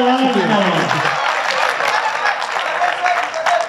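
Audience applause at a Hindi-Urdu poetry gathering in Delhi, a loud continuous wash of clapping from a crowd, with a voice at the start before the applause takes over.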